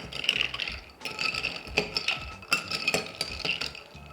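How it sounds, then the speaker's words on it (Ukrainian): A spoon stirs a coffee drink made with lavender syrup in a glass, giving quick ringing clinks and scrapes in repeated bursts with short pauses between them, close and fairly loud. "І обов'язково це все гарненько перемішуємо."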